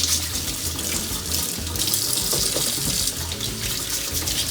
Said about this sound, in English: Just going to give them a little scrub.